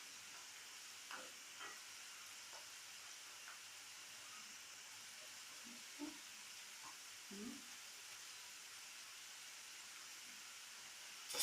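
Garlic and tomatoes sauté in a pan over a stove, a faint steady sizzle and hiss with a few soft clicks and stirring scrapes, no talking.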